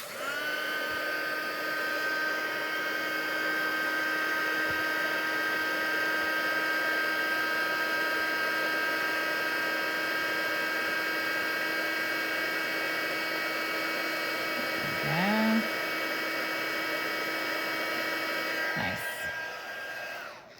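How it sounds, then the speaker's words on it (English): A heat gun runs steadily and loudly for heat embossing a card, a continuous whirring blow with a high tonal whine that holds even, then winds down and stops near the end. "Okay, so I'm going to heat emboss this."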